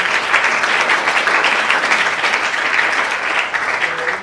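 Steady, dense applause from an audience at the I Am Woman Awards 2018, a full room clapping continuously and evenly for several seconds with no voices on top.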